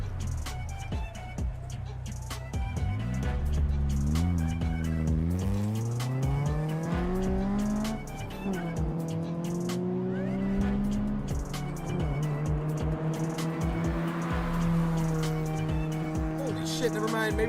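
Cars in a video game race produce engine notes that rise and fall in pitch, with repeated tire squeals and skids, sounding loud and continuous for the whole stretch.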